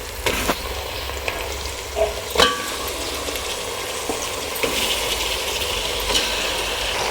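Chicken sizzles with onions in a hot pan, giving a loud continuous frying hiss broken by occasional stirring scrapes. No one speaks.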